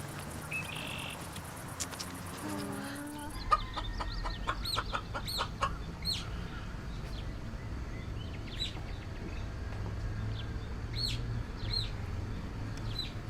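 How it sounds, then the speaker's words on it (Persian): A chicken clucks in a farmyard, the calls coming in short bursts over a steady background of outdoor noise, with other bird chirps mixed in and no talking. "واقعا مرغ قشنگی."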